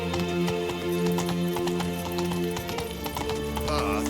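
Roach, a horse in The Witcher 3, gallops in a steady, fast clip-clop of hooves under game music, with a short whinny near the end.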